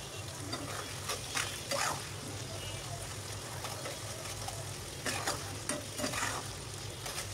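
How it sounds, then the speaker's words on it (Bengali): Potatoes frying with tomato, green chili, onion and whole spices for an egg curry: a constant low sizzle with a few soft stirring scrapes, fairly quiet and close. "এই তো এখন সব কিছু খুব সুন্দর করে ভেজে নেব। একদম ভালোভাবে কষাতে থাকবো।"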